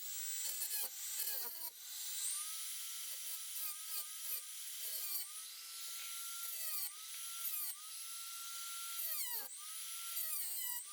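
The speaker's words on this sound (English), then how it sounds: "Here is my Dremel 3000, and I mean business today." A Dremel 3000 rotary tool cuts into a screw on an Xbox Series X console, a loud, sustained high-pitched whine and grinding that dips and rises repeatedly as the cutting wheel bites, close up with no talking.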